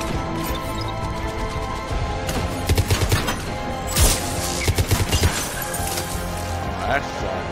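Rapid gunfire from a first-person shooter game, fired through walls, comes in loud bursts and crashes over dense game audio, with a voice talking through it.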